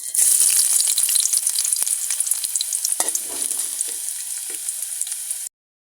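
Onions fry in hot oil for a teasel gourd curry, a loud, dense crackling sizzle with quick spits and stirring scrapes that runs steadily, then cuts off abruptly.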